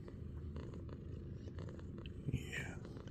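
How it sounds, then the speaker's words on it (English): A female cat purrs softly and close, a low continuous rumble with a faint murmur of a voice nearby. "Can you hear her purring?"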